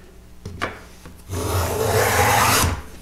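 A wooden side bead moulding plane is pushed along a board, cutting shavings: two short scraping strokes, then one long steady rasping stroke heard up close with no talking.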